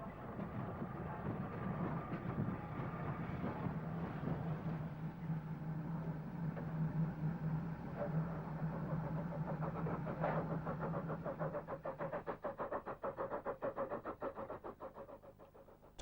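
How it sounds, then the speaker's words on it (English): A steam train is hauled back into a station by an E1 locomotive, giving a steady rumbling roll with rhythmic clanking toward the end, heard alone at moderate distance. "the main train was drawn back into the station by the E1"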